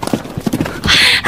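A horse breaks into a run, its hooves clip-clopping close by amid scuffling and a short neigh-like burst near the end, over a brief one-second stretch.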